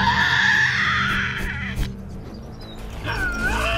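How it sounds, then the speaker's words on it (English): Tasmanian devil screaming in a wild forest, a harsh, raspy shriek rising and breaking off, followed by a second wavering, strained cry after a short pause. "A female Tasmanian devil hones in on the unmistakable sound of her own kind."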